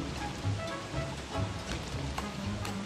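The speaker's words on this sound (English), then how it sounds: "Oh no, it's raining frogs." Steady pattering rain from a frog-rain event in the video game Don't Starve, a dense wash of drops with soft low thumps, moderately loud and continuous with no talk.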